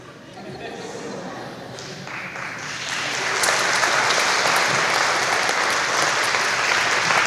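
An audience in a lecture hall claps for a person called up to a microphone, the applause swelling steadily louder and denser, broad and sustained with no clear break.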